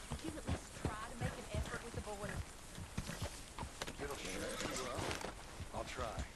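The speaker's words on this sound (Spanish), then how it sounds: "Y otro caballo está por allí." Horse hooves clip-clop in Red Dead Redemption 2, an irregular run of close, sharp hoof strikes mixed with game sounds while someone talks over them.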